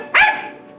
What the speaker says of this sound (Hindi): ये बहुत भौंकता है, बहुत भौंकता है